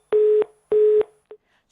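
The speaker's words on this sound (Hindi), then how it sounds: "फोन उन्होंने काट दिया है" Telephone busy tone after the other party hangs up: two loud, even beeps at a steady pitch, each about a third of a second, then a brief clipped blip, heard alone with no talk.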